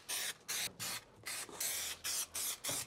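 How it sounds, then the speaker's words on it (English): Spray adhesive glue hissing from a can in a series of about eight short, even bursts with brief gaps, applied close up to fabric being wrapped onto a Ford Transit van interior. "So we're gonna respray our glue, we're gonna reactivate this."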